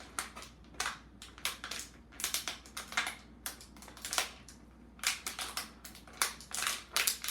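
Repeated crisp snipping and crunching sounds from cutting with blunt child scissors, close and fairly quiet, coming in irregular bursts with short pauses between cuts.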